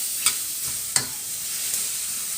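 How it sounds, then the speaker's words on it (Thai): Long beans stir-fried with pork belly sizzle steadily in a pan, close and even, broken by a few sharp spatula clacks against the pan, with no voices. "ผัดถั่วให้สุกจ้ะ"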